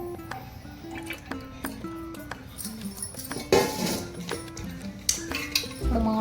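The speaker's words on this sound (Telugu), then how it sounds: "ఈ కొలిచిన గిన్నెతో సగం గిన్నె పప్పు నూనె తీసుకుంటున్నానండి" Groundnut oil being measured out with a measuring bowl, with clinks of metal vessels, a short pouring splash and the gentle knocks of dishes being handled up close.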